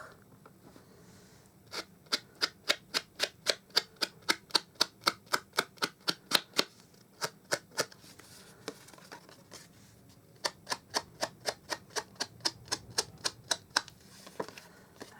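Rapid, crisp tapping strokes of an ink sponge dabbed along the edges of Whisper White cardstock, coming in quick even bursts with a short pause midway, close and fairly quiet.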